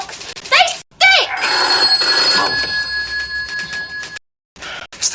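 An old-fashioned telephone bell rings in sustained bursts of steady tone, loud and close, with voices talking around and partly over it in an indoor scene.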